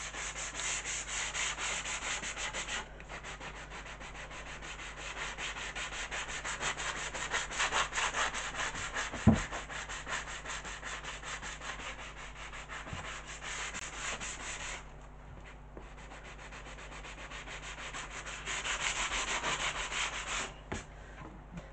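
A wooden piece is sanded by hand in a restoration workshop, a steady close scratchy rubbing of abrasive on wood that runs continuously with slight surges in pressure and brief pauses as the stroke changes.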